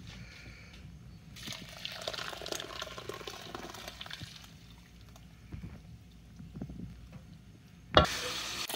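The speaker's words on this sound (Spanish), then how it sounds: "Ya que tenemos el maíz limpio, ahora vamos a agregar la salsa." Salsa pours onto cleaned maize in a cooking pot, a soft liquid splashing and gurgling that swells for a few seconds and then eases, followed by quieter stirring and a sharp knock near the end.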